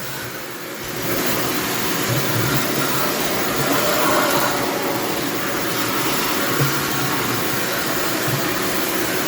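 A vacuum cleaner sucks dirt and debris from a Gottlieb Bounty Hunter pinball machine, starting with a rising whine and then settling into a loud, close, steady roar.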